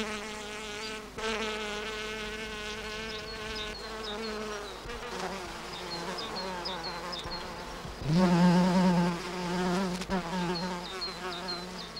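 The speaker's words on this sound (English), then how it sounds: "The bee fly, Bombilius, taxis out for takeoff, its monster proboscis at the ready." A bee fly (Bombylius) buzzing among Bellevalia flowers in the wild in Israel: a close, continuous insect drone with wavering pitch that swells louder near the end, with faint background sounds underneath.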